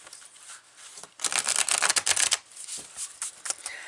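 A deck of Spacious Tarot cards is shuffled by hand, giving a dense burst of papery riffling in the middle, with a few softer card flicks before and after. No talk.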